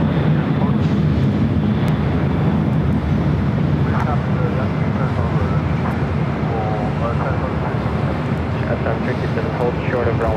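An Airbus A330 rolls down runway 25 right at LAX, its engines producing a loud, steady roar that continues throughout, with faint radio chatter underneath.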